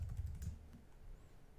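Typing on a computer keyboard: a quick, faint burst of soft key clicks close to the microphone, lasting under a second before fading into quiet room noise.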